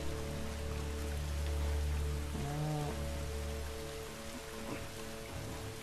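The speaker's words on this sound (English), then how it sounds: "I like how it's dark and it's raining." Steady rain pours through a dark level of the video game The Last of Us Remastered, a continuous hiss layered over a low, sustained droning tone that swells briefly near the middle.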